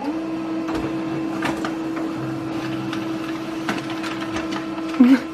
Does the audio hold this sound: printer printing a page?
yes